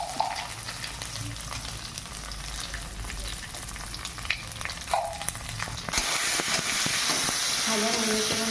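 Whole garam masala frying in a little oil crackles and sizzles steadily up close, then the hiss swells louder and brighter for the last couple of seconds, with no talk.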